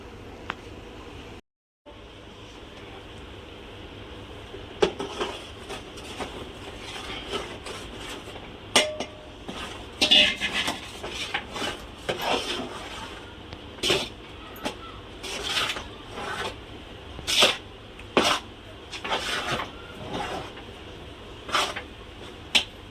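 A spoon stirs flour into boiling water in a metal pot while making bhajani chakli dough. Repeated clanks and scrapes against the pot sit over a low steady rumble, with the knocks growing denser and louder toward the end.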